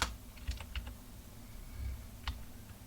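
Sparse, close clicks on a computer keyboard while entering a database query during a Microsoft SQL Server setup on Ubuntu; a few quick keystroke bursts with quiet gaps between them and no talk.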